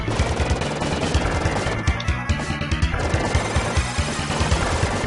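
Steady, rapid-fire gunfire from the 16-bit video game Contra 3: Alien Wars, loud and continuous over a busy game soundtrack and explosions throughout.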